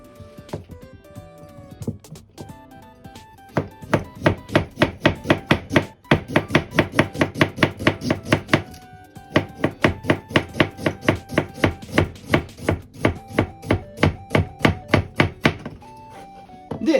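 A knife slices young ginger thinly against the grain on a cutting board for pickled gari, a long run of crisp, evenly spaced chopping taps at a brisk steady rhythm, close and clear with no talk.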